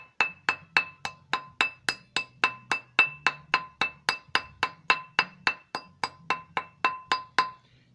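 Metal hammer tapping a spoon ring band down to size on a mandrel, sharp ringing metallic strikes repeated about three times per second in a steady rhythm, close and clear, with no voices.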